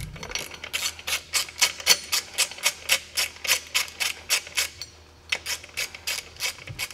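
Matco ratchet working on bolts during a Rough Country leveling kit install on a Ford F-150, a close run of rapid rhythmic clicking strokes with a short pause before resuming.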